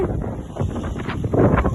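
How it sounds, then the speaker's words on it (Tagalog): Wind gusts buffet the microphone, giving a continuous rumbling roar that swells and fades in uneven bursts. "Wag! Hangin yan!"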